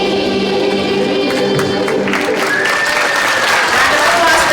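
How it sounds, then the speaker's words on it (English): Loud, sustained applause from a crowd at an outdoor Veterans Day ceremony, following a ukulele club's performance of a sing-along, with scattered cheering and a few voices mixed into the steady clapping. "Round of applause for Ukulele Club."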